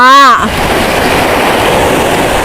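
Sea waves wash in a loud, steady broadband roar close to the microphone, with wind buffeting and a brief voice at the very start.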